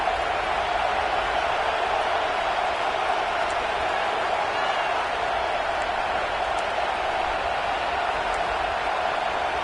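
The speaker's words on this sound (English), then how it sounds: "This crowd still bringing the intensity to open the second half." Steady roar of a large stadium crowd at a Kentucky football game, a broad, continuous wash of cheering and noise that stays level from start to finish with no distinct voices.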